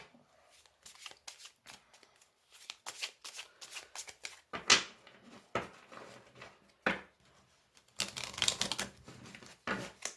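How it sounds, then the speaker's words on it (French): Tarot cards are shuffled and drawn, a quick close riffle of papery flutters and slaps in bursts with short pauses between them. "On va tirer d'autres cartes."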